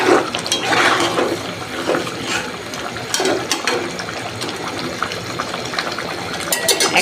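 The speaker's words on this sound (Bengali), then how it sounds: "এখন আমি আলুটাকে একটু কষায় নিচ্ছি।" Potatoes sizzle and are stirred in a hot pan while cooking a katla fish head muri ghonto, a steady close frying hiss with occasional louder scrapes and no talking.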